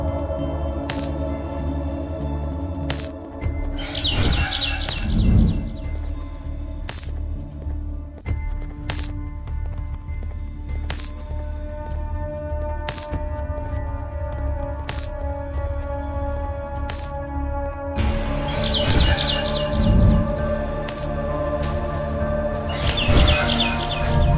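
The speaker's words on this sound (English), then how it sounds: "Get the bird to dive one more time." Bird chirps from the video game Garten of Banban 6, heard as sharp, scattered short calls over a continuous droning game soundtrack, with louder bursts of activity near the start and end.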